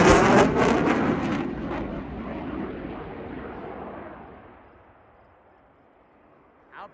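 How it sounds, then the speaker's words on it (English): A CF-18 fighter jet roars past at an airshow, loud at the start and then fading steadily into the distance until near silence, with a brief faint noise at the very end. "Here comes the CF-18."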